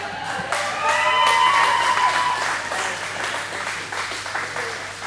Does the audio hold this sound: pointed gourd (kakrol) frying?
no